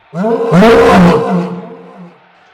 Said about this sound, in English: releases a long, leonine roar